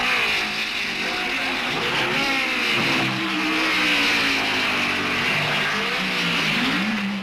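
Formula 1 race cars from 1967 battling for position at the British Grand Prix, engines screaming loud and continuous as several cars pass, pitch rising and falling with shifting gears.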